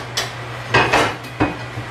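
A metal lid set onto a pot of water holding turkey tail mushrooms, followed by a small item dropped in, gives a few light clanks and clinks close by over a steady hum.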